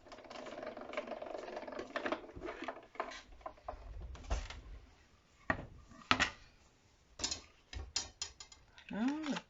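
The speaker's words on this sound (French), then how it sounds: "je vais sortir la machine à découper" A manual die-cutting machine for scrapbooking is handled and cranked on a crafting table, giving clicks, ratcheting and mechanical clunks in irregular bursts, with faint background sounds between them.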